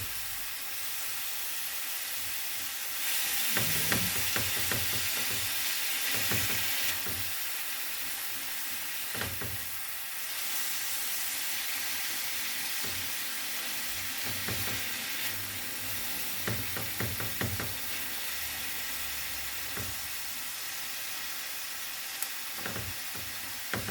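Ground pork sizzles steadily in a hot pan, a constant dense hiss with repeated scraping and clattering strokes as it is stirred and broken up, close and continuous with no talking.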